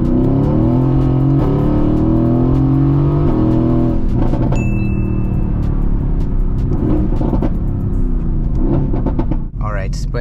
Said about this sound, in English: Second gear acceleration.